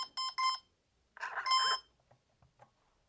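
A motor on a homemade cardboard RC hovercraft beeps: two short electronic tones, then a longer warbling beep sequence, clear and close, followed by faint small clicks.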